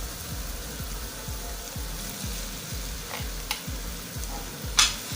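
Beef goes into a sizzling pan and is stirred, a steady close frying hiss over a regular low rhythmic thumping, with a few scraping clicks of the spoon.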